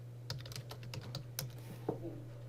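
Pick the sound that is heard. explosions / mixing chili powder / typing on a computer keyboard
typing on a computer keyboard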